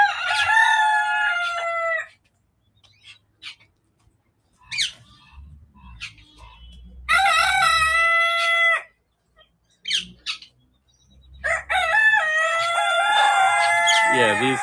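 Roosters crow loudly among chickens at a large African bird sanctuary, three long harmonic crows with quieter clucking and shuffling in the gaps between them.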